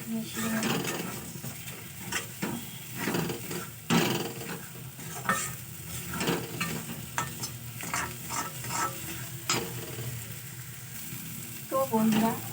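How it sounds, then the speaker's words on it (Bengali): A pan of baigan bharta, mashed eggplant, is stirred with chopped coriander, giving repeated scraping and light sizzling strokes at a steady pace, close and moderately loud, with a voice speaking over part of it. "ধনে পাতা বাকি সব কিছু একসঙ্গে খুব ভালো করে মিশিয়ে নেব।"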